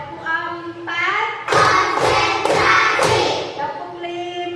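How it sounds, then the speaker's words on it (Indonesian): Schoolchildren in an Indonesian classroom clap together in a few quick, loud bursts during a counted clap chant, with a teacher's voice calling out the counts between the claps. "Tepuk 1. Tepuk 2. Tepuk 3. Tepuk 4."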